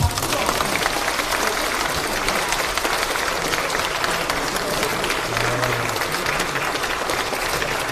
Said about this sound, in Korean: 여러분 모두 박수로.